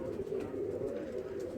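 A pigeon with purple feet coos in a low, continuous rolling murmur, close and steady throughout.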